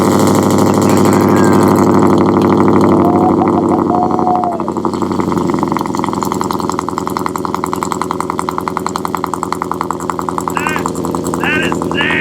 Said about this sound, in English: Do some revs after it warms up just a little bit.